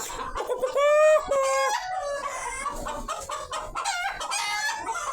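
Chickens cluck and a rooster crows loudly close by, the crow rising in a clear stretched call early on, followed by a busy mix of clucks and squawks from several birds.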